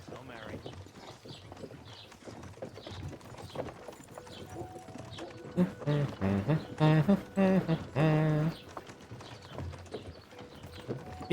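Rhythmic clip-clop of horse hooves trots along steadily in the video game Kingdom Come: Deliverance II while someone speaks over it, his voice rising louder midway.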